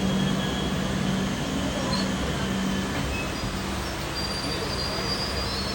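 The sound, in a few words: passing train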